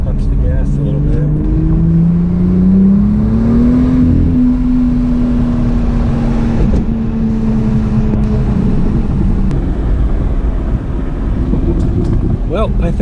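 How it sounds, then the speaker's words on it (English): A car accelerates hard across a bridge in Fresno, California, its engine note rising steadily in pitch for a few seconds and then holding, with loud wind and road rumble throughout. There is no talking. "These bridges just make me want to punch the gas a little bit."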